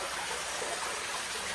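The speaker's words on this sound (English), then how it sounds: "look at the water coming in." Water streams steadily into an old rock-cut washing area near the Cava d'Ispica catacombs in Sicily, a continuous close rushing hiss with no voices.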